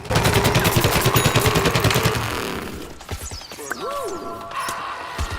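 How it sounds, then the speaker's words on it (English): An explosive-laced fan imp in Plants vs Zombies Garden Warfare blowing up after bouncing, heard as rapid loud blasts with crashing debris, then a softer tail mixed with game effects. "Bounces a couple of times before exploding hilariously, taking out plants"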